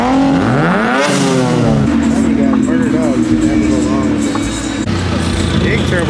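Mazda RX-7 with a big turbo revving at a car meet, loud rising and falling engine sweeps close by, with crowd chatter and voices throughout.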